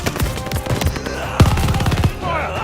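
In the Call of Duty Vanguard video game, an MG-42 machine gun fires rapid, loud bursts of rattling shots in close succession, with combat sounds and brief shouting in the mix.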